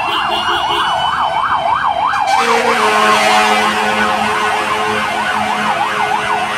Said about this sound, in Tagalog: Fire truck ng Manila ay sunod-sunod,